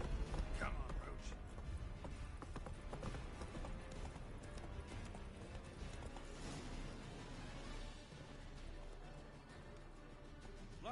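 Hooves of the horse Roach in The Witcher 3 thud in a quick, steady galloping rhythm over rumbling game ambience, with voices talking over it.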